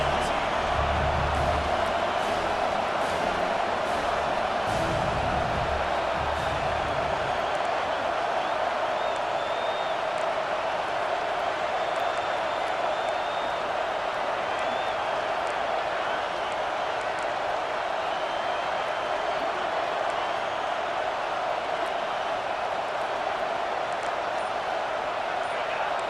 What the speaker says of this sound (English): with this place rocking, the crowd forces a false start